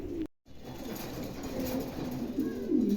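Adult pigeons of a dragon breed, newly molting and kept for sale in Bangladesh, cooing faintly at close range against a low, noisy background with a brief dropout near the start.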